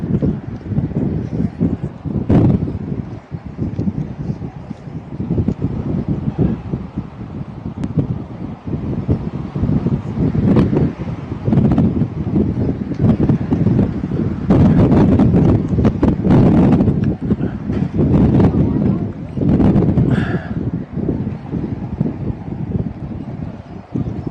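At an outdoor high school baseball game, wind buffets the microphone with loud, continuous rumbling gusts that rise and fall throughout.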